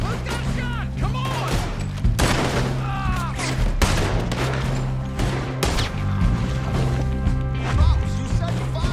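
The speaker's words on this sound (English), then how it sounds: "They're shooting right at me!" Gunfire in Red Dead Redemption 2 during a shootout with guards, repeated sharp shots and impacts scattered through a busy, loud soundscape with music and shouting voices.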